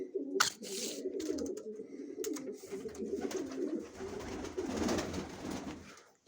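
Pigeons cooing inside a pigeon loft with nest boxes, several birds giving low burbling coos close by, with occasional wing flutters and knocks.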